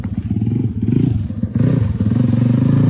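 A Honda ATC 70 three-wheeler engine idles and putters nearby with a rough, pulsing low rumble that steps up slightly louder midway through.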